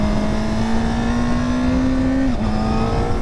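A Honda Fireblade or Yamaha R1 superbike engine holding a steady high-revving drone, then a quick cut and drop in pitch as the quickshifter snaps through an upshift, loud and close with no talk.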